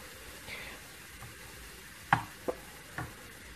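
A soft, steady sizzle of onions frying golden in a pan, with a few sharp clinks of a utensil against the pan.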